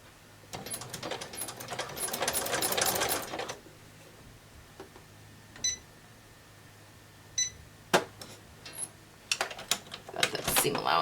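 A sewing machine stitches cotton modal underpants in a short close burst of rapid whirring, then falls to quiet handling with scattered clicks and beeps before another brief run.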